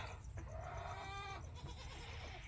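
A faint goat bleat, one short wavering cry, over a quiet outdoor farm background.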